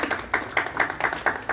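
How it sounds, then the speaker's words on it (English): Audience clapping at a high school certificate ceremony for a classroom management course: a loose run of individual claps, fairly close and irregular, with no talk over it. "Keep the certificates and clap."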